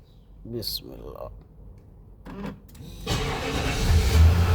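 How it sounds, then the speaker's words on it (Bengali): A 2015 Nissan Patrol V8 is started close by: faint clicks and brief voices first, then the engine catches and settles into a loud, steady low rumble. "আসুন গাড়ি স্টার্ট করি আপনাদেরকে শোনাই"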